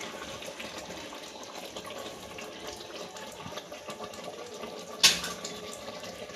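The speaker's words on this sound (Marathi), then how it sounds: "आता आपण याच्यामध्ये पाणी टाकायचं." Water is poured into a pot of home-style chicken curry cooking in a handi, a steady soft gushing that continues throughout, with one brief sharp clink near the end.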